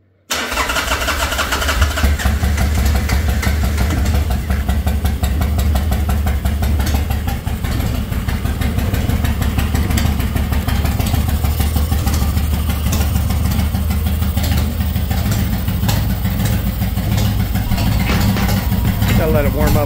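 A motorcycle engine idles steadily and loudly at close range while warming up on a hot day, holding an even, continuous rumble throughout, with voices talking over it.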